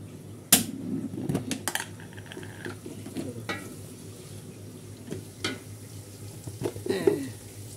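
Onion, ginger and garlic fry in oil for bhuna khichuri, a steady low sizzle broken by sharp utensil clinks and stirring scrapes, with no talking.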